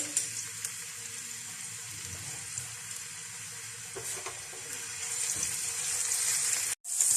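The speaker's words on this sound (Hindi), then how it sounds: "इसके अंदर अदरक लहसुन का पेस्ट डाल देंगे और हल्का सा इसको हम ब्राउन कर लेंगे" Ginger garlic paste frying in about two tablespoons of oil in a frying pan, a steady close sizzle and crackle with faint clinks, continuing without pause.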